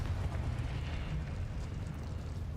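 A Confringo explosion spell from the Hogwarts Legacy video game: a sustained, loud low rumbling blast that roars steadily for a few seconds with no voice over it.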